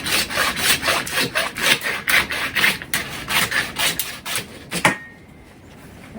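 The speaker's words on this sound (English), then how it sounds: "so I'm just gonna use my bone saw here." A hand bone saw cuts through deer bone in steady back-and-forth strokes, about a dozen rasping pulls close up, then stops, leaving a brief quiet at the end.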